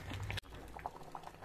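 A pot of green gram stew with coconut milk bubbles steadily at a boil, a soft continuous simmer with small pops and one brief knock partway through.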